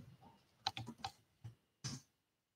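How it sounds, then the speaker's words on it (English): Scattered keyboard clicks in a few quick bursts, a cluster of keystrokes followed by isolated taps, fairly faint with no talking. "Typing."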